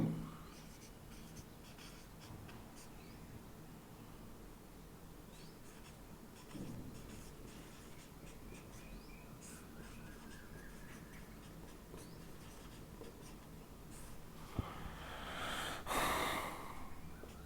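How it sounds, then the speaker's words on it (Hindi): A pen writes short notes on paper, a steady, faint scratching of strokes that runs throughout, close to the mic, with a sniff of breath near the end and no talking. "थोड़ा सा मैं शॉर्ट में लिख देता हूं।"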